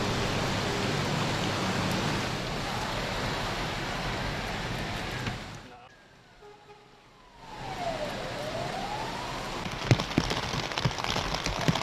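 Steady dense rain hiss from a heavy Hong Kong rainstorm fills the scene, briefly dropping away for a moment before the downpour returns, close and loud.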